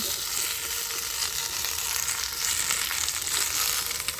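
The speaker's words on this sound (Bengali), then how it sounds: "এইবার একে একে আমি সব সবজিগুলো দিয়ে দিচ্ছি। আলু, সিম, বেগুন" Potato, flat beans and eggplant hit hot oil with fried onions, giving a steady, loud, close sizzle that runs unbroken throughout with no voices.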